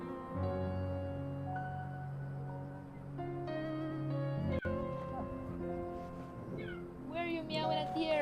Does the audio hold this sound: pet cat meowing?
yes